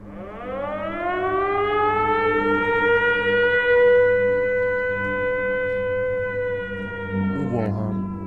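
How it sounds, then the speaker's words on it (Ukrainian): A civil defense air raid siren wails loud and sustained, its pitch climbing and then holding steady, with a brief clattering noise near the end and no voices. "Увага! Повітряна тривога. Пройдіть найближче укриття."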